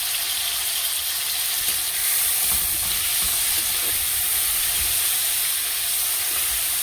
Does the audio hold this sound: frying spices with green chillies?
yes